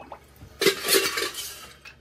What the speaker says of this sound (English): we'll get some ice into the mixing vessel